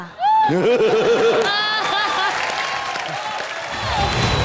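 Studio audience applause on the Indian TV comedy show Comedy Nights Bachao: a loud, sustained clatter of clapping mixed with bright musical tones and scattered laughter, with no speech.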